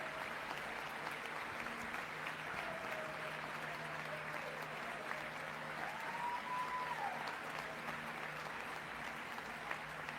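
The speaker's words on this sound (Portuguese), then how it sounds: "eles levantam e aplaudem" Applause from a standing audience in the US Congress, steady dense clapping that holds at an even level throughout, with no one speaking over it.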